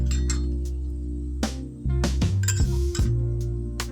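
A spoon clinks against a steel bowl as ginger and mustard spice pastes are added for Bengali shukto, with several sharp metallic taps over a loud, steady low hum.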